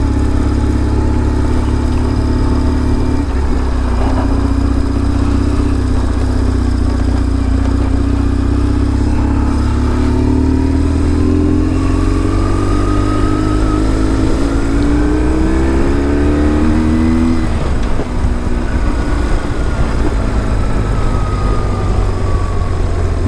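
A BMW R1150 GS motorcycle labours uphill on a hill climb, its engine droning loud and near, with pitch climbing through several gear changes and wind noise over the steady roar.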